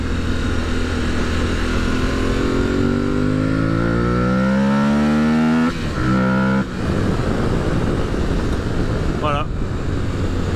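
Aprilia Tuareg 660 trail motorcycle ridden on Corsican roads, its engine intake roaring loud and close as revs climb and fall through gear changes, with a brief dip mid-ride.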